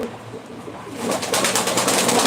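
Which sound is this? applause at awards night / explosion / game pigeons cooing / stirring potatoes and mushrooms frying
game pigeons cooing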